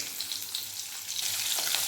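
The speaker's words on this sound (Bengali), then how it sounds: "তেলের মধ্যে দিয়ে দেবো গোটা জিরে, তেজপাতা, দিয়ে দেবো 4টা কাঁচা লঙ্কা" Whole cumin, bay leaf and green chilies crackle in hot oil, a bright, close, continuous sizzle that swells toward the end, with no one talking.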